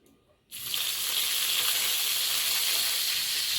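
Dried red chili, mustard seeds and cumin drop into hot oil and burst into a loud, sudden sizzle that holds as a continuous bright hiss after a brief quiet start.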